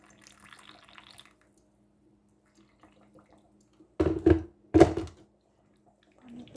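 Water poured into a pot for green tea a little at a time: two short, close splashes after a long near-silent stretch.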